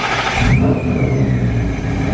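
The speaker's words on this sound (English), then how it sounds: "It is time, first engine start." A 2022 Ford Mustang GT fitted with an ESS G3x supercharger fires up for the first time, a loud, close, steady engine roar that shifts and settles into a strong idle after about half a second.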